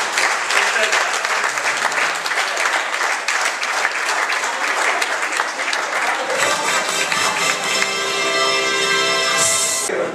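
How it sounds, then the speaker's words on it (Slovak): Audience applause at a league cup bowling event, a dense sustained wash of clapping from many hands that carries on steadily, then thins toward the end. "Veľký potlesk."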